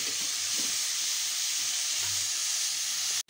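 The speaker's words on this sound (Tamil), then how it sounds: "உப்பை போட்டு நல்லா வதக்கிக்கலாங்க." Onions and tomatoes with salt sautéing in a pan, a soft steady sizzle and hiss with faint stirring, quiet and close, ending abruptly.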